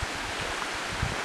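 Outdoor fountain with water running steadily, a continuous soft rushing splash heard close, with faint low thumps, and no voices.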